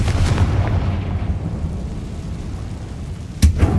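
The Confringo fire spell blasts in Hogwarts Legacy, a heavy, booming burst with a low rumble that rolls and fades, then a second sharp impact near the end, loud and close.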